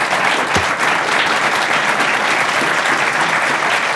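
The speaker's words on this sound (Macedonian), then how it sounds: "аплауз за оваа брилјантна идеја" Studio audience at a talk show applauding, a dense, loud burst of many hands clapping that holds steady for a few seconds with no talking.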